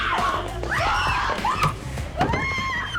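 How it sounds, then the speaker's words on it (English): Women screaming in a scene from a TV comedy series, several shrill, rising shrieks in quick succession, loud and close, over background noise. "which causes them to literally scream and run away in a way that can only be described as cartoonish"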